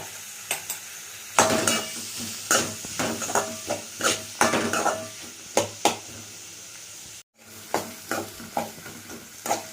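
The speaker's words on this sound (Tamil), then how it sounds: "வெங்காயத்தை நல்லா வதக்கிக்கணும்" Onions and curry leaves sautéing in a pan for a garlic curry, sounding as rhythmic scraping stirs and clanks of a spoon over a soft background sizzle, close up, with a brief gap near the end.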